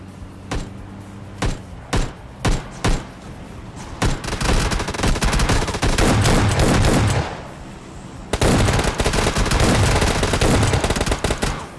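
Gunfire in the mobile battle-royale game PUBG Mobile Lite: a few spaced single shots, then sustained loud automatic bursts fired blindly near shipping containers, dense and continuous with a brief pause before another long volley.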